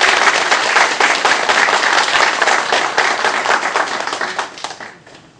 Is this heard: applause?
yes